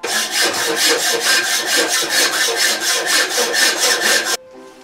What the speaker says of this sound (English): And I am going to cut this out with the hacksaw.